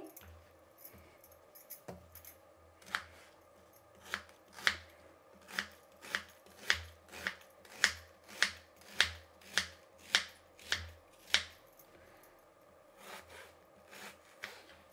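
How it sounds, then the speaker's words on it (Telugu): Red onion is chopped into small pieces on a board, a run of about a dozen crisp, evenly spaced knife strikes at a steady rhythm, close and clear, with a few softer taps before and after. "ఇప్పుడు ఎర్రగడ్డ కట్ చేసుకుందాము."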